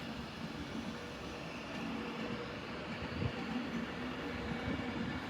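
Avanti train passing through London Euston station on a snowy evening, a steady broadband rumble of rolling stock with faint rail clatter, sustained and moderately distant throughout.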